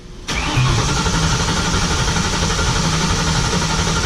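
A Ford GT500 engine fires up for its first start, catching abruptly and settling into a loud, steady rumbling idle right next to the listener.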